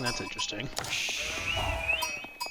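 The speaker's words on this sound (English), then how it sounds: "Well, we got a couple sheep." Sheep bleat in the real-time strategy game Age of Empires IV, soft and brief beneath a commentator's steady talk during a 3v3 match.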